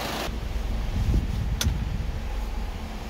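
A VW Jetta with an air-conditioning compressor that will not cool is switched off. The engine's running hiss cuts out abruptly near the start, leaving a low rumble and a single brief click afterward.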